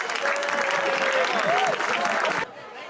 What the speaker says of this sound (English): let's hear it for all our seniors and fans cheering football